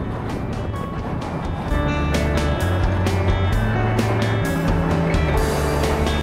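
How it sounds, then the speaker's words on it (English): Steady, loud traffic noise from a busy Malaysian highway near Penang carries through, with a continuous engine drone and wind rush from a passing motorcycle's viewpoint, plus lorries and cars surging by. "Lots and lots of lorries, lots and lots of cars, heavy traffic"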